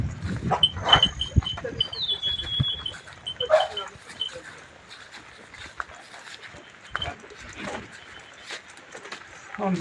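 A dog barks a few times in short bursts against quiet outdoor background noise, with faint voices nearby.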